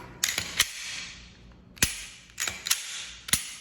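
A pistol slide is pushed back onto its frame and worked for a function check, giving a series of sharp metallic clicks and snaps in short separated bursts, close and crisp, with no talk.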